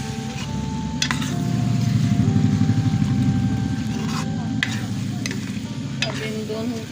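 Chicken liver is stirred into frying chana dal in a hot pan, giving a loud, dense sizzle. Repeated scraping strokes of a spoon run over it, close by and steady throughout.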